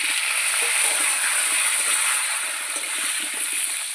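Potatoes frying in oil in a pan after a tempering of dried red chilli and bay leaf, a steady close hiss and sizzle with soft crackles, no talking.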